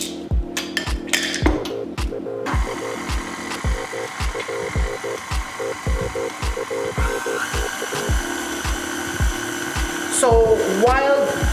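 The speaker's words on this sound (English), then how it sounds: "So while our mixer is mixing the butter" Electric mixer beating butter for Jamaican sweet potato pudding: a steady motor hum with a regular ticking, clunking rhythm as the beaters turn, close and continuous, ending in a brief high scrape.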